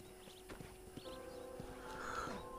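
Horse hooves from a Red Dead Redemption ride, a fairly faint steady clip-clop under background game ambience, with brief whinny-like tones toward the end.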